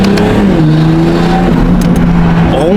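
BMW M440i with loud aftermarket intakes, engine revving up and down in close, loud bursts with a rising pitch at the end, no voices.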